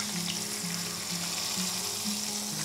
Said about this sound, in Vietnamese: Và mình sẽ chiên cái phần thịt trước.